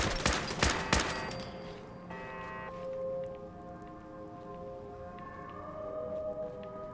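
Gunfire from a gun in Fallout 4, a quick burst of sharp shots at the start followed by quieter clicks and tonal ambient game sounds.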